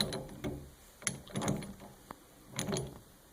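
A wrench tightens a fitting on a Moen single-handle Posi-Temp faucet cartridge, giving a few close, scattered metallic clicks and scrapes in short bursts with quiet gaps between.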